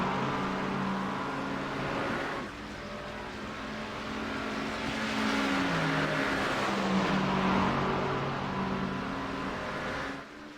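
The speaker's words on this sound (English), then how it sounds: "Now the new McLaren, it does sound really good, but that Mercedes still the car to beat with the sound" GT3 race cars, a Mercedes and a McLaren, roar around Imola in a racing video game, engines droning steadily as they rise and fall through the gears, one car's note climbing under acceleration and a dip midway.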